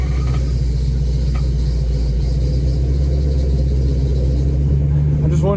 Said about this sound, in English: I just wonder if the throwout bearing is making noise, like something's not engaging right.